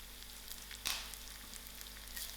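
Curry leaves dropped into hot oil for vada pav hit with a sudden sharp hiss, then settle into a soft, steady crackling sizzle.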